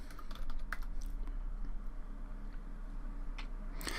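Keys on a computer keyboard clatter in short, quick taps as a material name is typed, close but faint over a steady low background hum.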